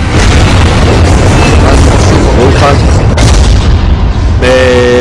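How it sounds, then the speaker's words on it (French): A flash grenade detonates in the Resident Evil 4 video game, a loud sustained booming blast with dense broadband roar throughout, followed by a brief tonal ringing near the end. "Oui, les grenades aveuglantes peuvent l'aveugler effectivement, donc c'est plus facile pour le viser."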